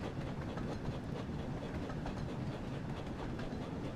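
Steady rumble and rhythmic clickety-clack of Thomas the Tank Engine running on rails in the Thomas & Friends Wonders of Sodor train game, continuous and fairly loud with no talk.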